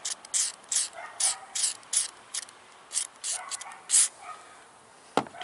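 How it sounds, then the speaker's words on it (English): Short bursts of grease spraying onto the gears of a SYMA X5C drone, a rhythmic series of close hissing spurts with brief pauses between them, ending with a sharp click. "then we'll spray this other grease on there"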